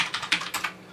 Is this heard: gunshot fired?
no